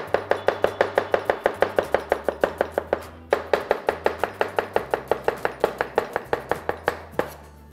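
Knife slices a halved onion on a cutting board in quick, even strokes that land as a steady run of crisp taps, pausing once briefly before resuming, close and clear with no talking.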